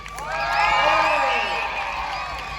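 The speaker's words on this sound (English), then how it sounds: "cheer for the Knight in white." A crowd cheers for a knight at a jousting show at Hampton Court Palace, a swelling mass of voices and whoops that builds, peaks, then holds steady, loud and close.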